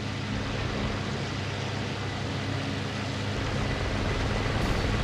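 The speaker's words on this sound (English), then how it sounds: "So here's my first actual firing pass at the lag 3." Engine drone of a World War II fighter in the flight sim IL-2 Battle of Stalingrad making a firing pass at a LaGG-3, a steady loud propeller roar with no distinct gunfire bursts standing out.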